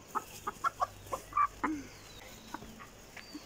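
Small hens on a farm give a few soft, short clucks in a loose, irregular series at moderate distance, then fall quiet, with no talk over them.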